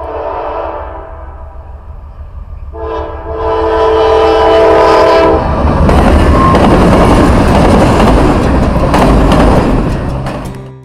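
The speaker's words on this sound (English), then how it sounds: "The movement of the train rocked me like a lullaby." A moving train sounds loud, sustained horn blasts nearby, two tonal honks in succession, then a roaring rush of wheels and carriages passing close for several seconds before it begins to fade.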